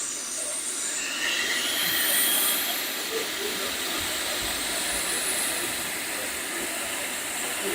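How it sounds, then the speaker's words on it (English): Steam locomotive blowing off steam from its release valve, a broad continuous hiss with a slight swell midway, moderately distant and steady, no talk over it. "Second one seems to be blowing off steam."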